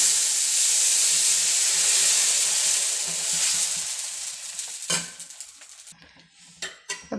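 Dosa batter sizzling loudly on a hot griddle, a bright continuous hiss that fades after a few seconds into quieter crackles and a few sharp clinks of utensils.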